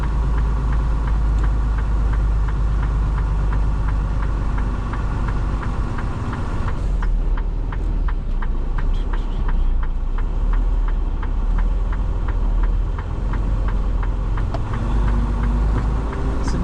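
A Prime Inc flatbed semi truck idles at a lumber delivery site in Troy, Illinois, giving a loud, close, continuous diesel rumble with a steady low throb and a faint rhythmic ticking.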